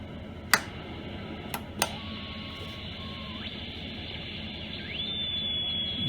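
A Hammarlund HQ-150 radio receiver's crystal calibrator produces a thin, steady whistling tone over receiver hiss. A few sharp clicks sound early, and the pitch glides as the dial is tuned, settling into a clear sustained tone.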